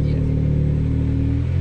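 A Daihatsu Mira Turbo (L200S) kei car engine runs steadily up close, a loud, even mid-pitched hum with a slight dip near the end.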